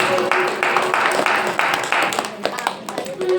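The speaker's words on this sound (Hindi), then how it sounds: "जोरदार ताली बजाइए" An audience at a musical Shrimad Bhagwat Katha religious gathering claps in a quick, steady rhythm of distinct near claps, alongside voices.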